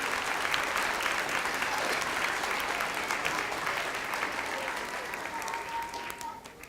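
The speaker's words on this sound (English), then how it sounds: "can we just get another round of applause for these 5th graders?" Round of applause for 5th graders at an elementary school graduation celebration, a full crowd of clapping and a few cheers that holds steady before fading near the end.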